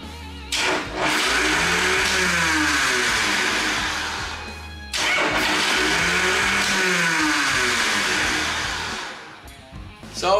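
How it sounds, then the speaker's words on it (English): Motorcycle electric starter with a faulty Bendix drive that keeps kicking out, giving two long whirring cranking bursts of about four seconds each, loud and close, with the engine never catching. "I try to start the bike and it goes ring,"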